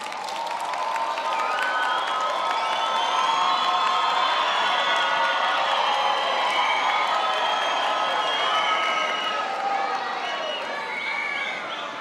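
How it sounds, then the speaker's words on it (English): Graduation audience applauding and cheering, a sustained wash of clapping with whoops and shouts rising through the crowd, steady and full for the whole stretch. "Please turn to them and give them a hand of applause."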